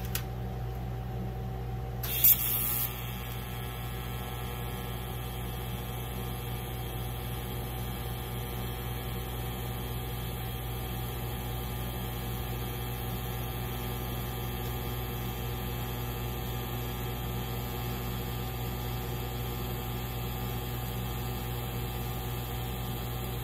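A TIG welder arc on thin sheet metal strikes with a brief sharp crackle, then settles into a steady, even electrical buzz and hum that runs unbroken and fairly quiet for about twenty seconds, with no talking.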